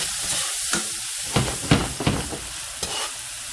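Minced garlic sautéed in a hot pan, with bursts of sizzling and the scrape of stirring rising and falling across a few seconds, nearby and moderately loud, with no voices.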